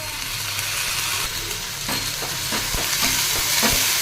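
Ginger-garlic paste fries with onions in a pan, a loud continuous sizzle close by, with repeated scraping and knocking strokes from stirring that grow busier toward the end.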